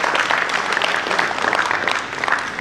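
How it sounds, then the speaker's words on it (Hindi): Applause from an audience welcoming a guest at a book release ceremony, a dense patter of many hands clapping steadily at moderate loudness, with faint voices mixed in. "आइए तालियां बजाकर इस्तकबाल करें परवीन तला साहिबा का।"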